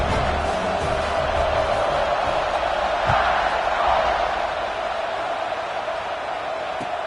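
A college football stadium crowd at Texas Tech versus Alabama roars as a broad, steady wall of noise just before kickoff, sustained and fairly loud throughout, with a few thumps but no clear separate voices.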